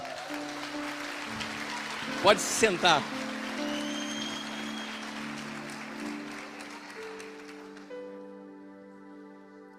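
Church conference audience at a parents-and-children event applauding for an elderly woman pastor, steady broadband clapping through most of the clip, with someone speaking briefly near the end as the applause fades out under a sustained organ-like keyboard pad.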